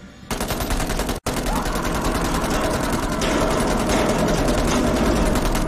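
Sustained rapid automatic gunfire in the video game Man of Medan, a loud continuous rattle with one brief break near the start, then steady firing to the end.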